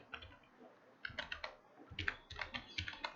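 Quiet, close clicks of keys pressed on a computer keyboard, a short, uneven run of about a dozen taps with brief pauses between clusters.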